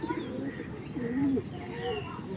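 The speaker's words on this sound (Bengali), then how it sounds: "দেখো আমার সব পায়রা লফটে ঢুকে গেছে" Pigeons cooing in a loft, soft repeated low coos with a few faint chirps over a steady background, no talking.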